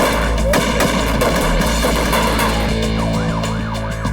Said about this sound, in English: The heavily armed kidnappers see only the 2 officers and open fire.